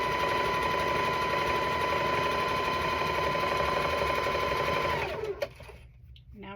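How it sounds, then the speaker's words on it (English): A sewing machine stitches quilt block pieces for a Halloween and cat quilt, running steadily and loudly for about five seconds before stopping and leaving a quieter room tone. "I'm just gonna put that right in the machine"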